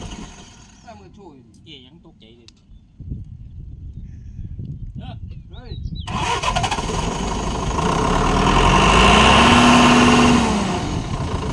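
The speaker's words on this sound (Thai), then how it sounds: "เตรียมตัวสตาร์ทเครื่อง" An engine in a garage workshop, just reassembled, cranks several times with the starter whirring, then fires and roars up loudly, revving and holding a high, strained note before easing off, with voices talking nearby.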